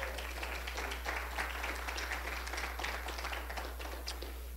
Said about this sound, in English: Go ahead and give him a hand clap of praise.